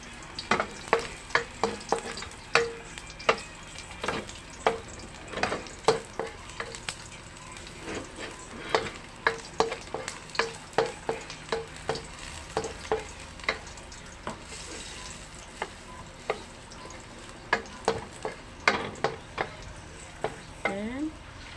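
Garlic sautés in a pan for a tilapia fish stew: a steady close sizzle and frying hiss, punctuated throughout by frequent sharp scrapes and taps of stirring against the pan.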